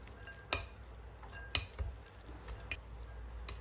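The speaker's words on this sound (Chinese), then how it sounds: "用筷子给它搅拌均匀" Chopsticks stir boiled noodles in a large bowl with cooking oil and dark soy sauce, giving soft, scattered clinks against the bowl at a steady, unhurried pace, quiet and close with no voices.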